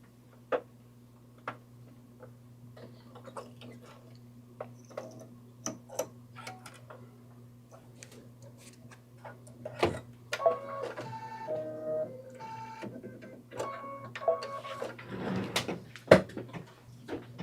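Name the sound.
Brother embroidery machine stitching out a patch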